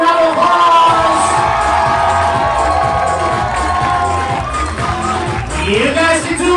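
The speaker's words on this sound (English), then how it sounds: "let's give a big, thunderous, tremendous round of applause to the new bride and groom, Michael and Rachel Long." Wedding guests cheer, whoop and shout for the new bride and groom, a loud, dense crowd roar that holds steady for several seconds with voices rising out of it.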